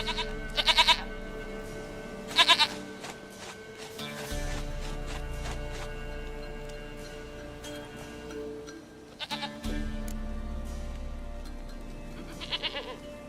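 A goat bleats several times in The Witcher 3, in short loud bursts spaced apart over a steady low game background hum.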